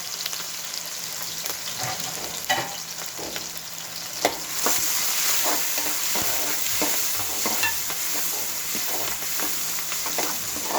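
Chopped onion and green chillies fry and sizzle steadily in a pan. A continuous close crackling hiss runs throughout, broken by occasional scraping stirs, and nobody talks.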